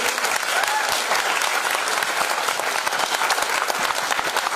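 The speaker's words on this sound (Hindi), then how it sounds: "तो जोरदार ताली होनी चाहिए उनके लिए" An audience at an agriculture products training session breaks into loud, steady applause. The clapping is dense and continuous throughout, with no talking over it.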